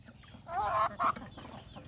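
Free-range backyard chickens cluck in two close, loud bursts over a quiet farmyard background.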